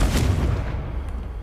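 Confringo blasting spell in Hogwarts Legacy, a deep booming explosion that hits at once and rolls off into a low rumbling tail.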